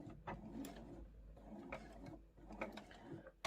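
A sewing machine backstitches across a stress point on a large crossbody phone pouch, with quiet mechanical whirring and ticks in short bursts at close range.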